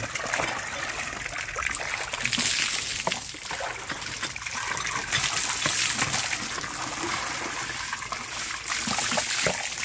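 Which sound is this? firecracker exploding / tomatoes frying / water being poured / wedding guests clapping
water being poured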